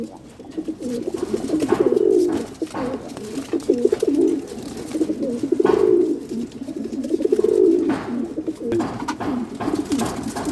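A pair of racing pigeons cooing up close, repeated low throaty coos in rhythmic bursts over soft rustling and faint background noise.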